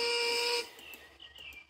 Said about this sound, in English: An engine's not an engine without a whistle, boasted Duncan